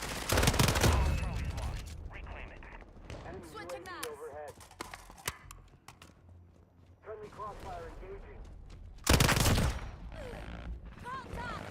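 Modern Warfare video game gunplay with a PPSH submachine gun, two loud bursts of rapid fire at the start and near the end, with someone talking in between.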